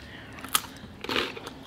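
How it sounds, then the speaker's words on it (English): Cereal crunched during a food taste challenge, two short crisp bites close to the mic with quiet mouth noise between them. "Oh, cereal. Eat that. Eat it up."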